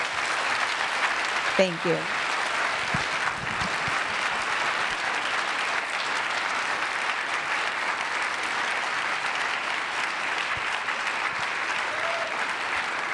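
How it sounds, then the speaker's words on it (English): Sustained loud applause from a large audience, steady and dense throughout, with a brief voice speaking near the start. "we're going to pay her now by clapping very loudly in gratitude"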